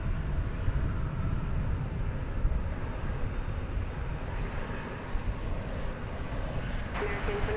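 An American Airlines Boeing 737-800 at the airport produces a steady, broad jet engine roar at moderate distance, continuous for several seconds with a faint tone entering near the end.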